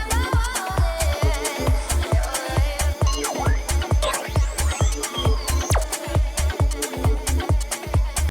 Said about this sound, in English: I've got the drums, which have basically just been ripped from the original track